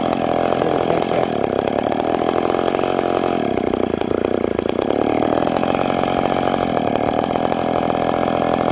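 A McCulloch Pro Mac 850 chainsaw fitted with a new exhaust pipe idles loudly and close up, its engine putting out a continuous rough drone that stumbles slightly in pitch, with no voices.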